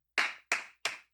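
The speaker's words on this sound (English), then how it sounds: "Thought you're clapping by yourself" One person claps alone, three sharp, evenly spaced handclaps with a fourth starting at the end, close and clear against silence.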